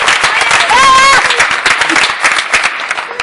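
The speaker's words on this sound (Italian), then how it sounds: "applauso, zia Wilma." A studio audience on an Italian afternoon TV show bursts into loud, close applause for Zia Wilma, dense clapping with a whoop early on that continues steadily to the end.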